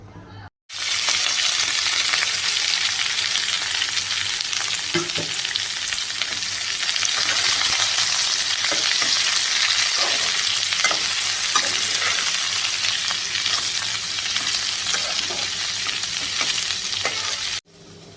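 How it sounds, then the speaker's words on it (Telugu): Drumstick (moringa) leaves stir-frying in oil in a pan, a steady loud sizzle with scraping stir strokes throughout, no talking. "దగ్గరుండి పొరట్టుకోవాలన్నమాట మాడకుండా పొరట్టుకోవాలి మనం"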